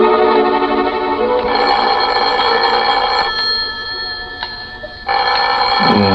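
An old-fashioned telephone bell rings loud and close in a vintage radio drama, sounding in long metallic bursts with short pauses between them and no voices.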